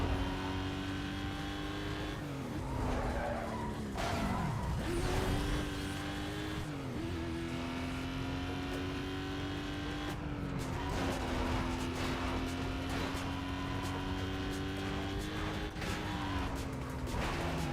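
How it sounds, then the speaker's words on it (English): A Koenigsegg Jesko in Need for Speed Most Wanted roars steadily at high revs, its engine pitch dipping and climbing as it lifts off the gas and turns, with occasional tire squeal, loud and continuous. "I let go of the gas and I'm trying to freaking turn, and this car is just wailing down"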